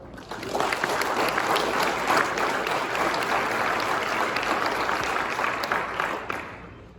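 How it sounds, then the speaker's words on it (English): An audience claps together at a winter camp gathering, a dense burst of applause that swells quickly, holds for several seconds, then tapers off. "let's clap on that part"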